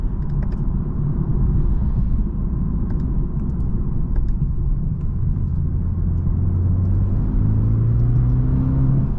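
A 2022 BMW 230i coupe accelerating, heard from inside the cabin as a loud, steady low engine rumble and road drone with a rising tone toward the end, no talking.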